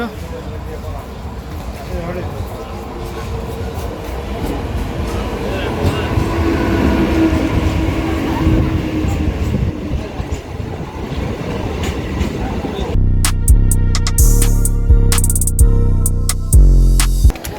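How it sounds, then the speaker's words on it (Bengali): A train pulls into a platform, its heavy rumble and clattering wheels loud and continuous, with voices around it and music overlaid near the end. "আমাদের ট্রেন চলে এসেছে"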